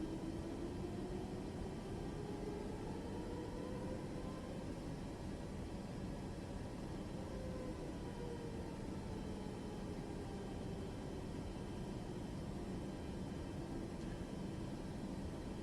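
A Boeing 737 Max 8 taxis in MSFS2024 with a steady, faint engine hum and whine. It holds level throughout, with slight tonal drifts and no talk.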